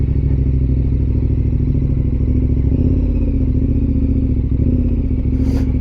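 A motorcycle engine-brakes down the steep, rough Shafer Trail descent in Utah, giving a loud, steady low rumble that holds at an even pitch alongside faint gravel clatter.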